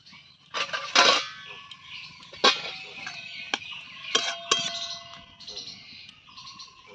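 A metal lid is set onto a karai holding mango pieces, water and a little salt for mango jelly, giving several sharp metallic clinks and rattles, loudest near the start, spaced over a few seconds against a quiet background.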